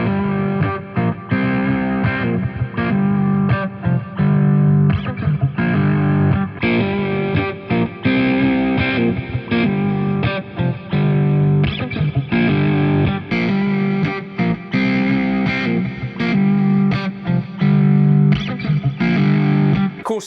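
Distorted electric guitar with effects plays continuously and loudly through a Line 6 Powercab CL open-back 1x12 speaker cabinet without a tweeter, dense chords ringing steadily throughout.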